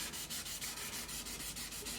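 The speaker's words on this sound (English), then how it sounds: "I'm hoping the sanding will do what I need to do with it" Rhythmic hand sanding of filled wood on a Tanglewood Sundance TW4 three-quarter semi-acoustic guitar, close and steady, with about eight even rasping back-and-forth strokes and no talking.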